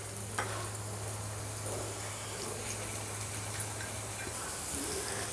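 Chopped onions and green chillies frying in a pan, giving a faint, steady hiss of sizzling oil with a low hum underneath and no voices.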